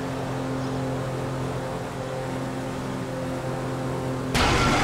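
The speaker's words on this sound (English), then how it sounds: "now that doesn't sound good. Damn, that's the engine, man." Strained motor drone of a boat in GTA 5, a steady low humming engine with harmonic tones running loud throughout, then a sudden burst of harsh broadband noise near the end as the failing engine sputters.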